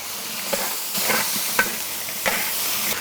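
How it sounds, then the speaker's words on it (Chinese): Shrimp stir-fried in a hot wok for spicy dry pot shrimp give a steady close sizzle and hiss, broken by several sharp scraping clinks of the spatula against the metal. "那个虾就可以直接下锅了。"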